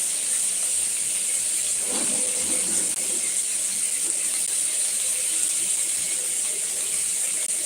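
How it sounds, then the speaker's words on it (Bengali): Chopped tomato fries with onion in a hot pan, giving off a steady, bright sizzling hiss that holds evenly throughout with a brief stir-like rustle early on. "টমেটোটা হালকা ভাজা ভাজা করে নেবো"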